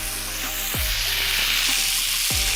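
Lean 93/7 ground beef browns in a cast iron pan, giving a loud, steady sizzle that runs unbroken from start to finish, with no talk.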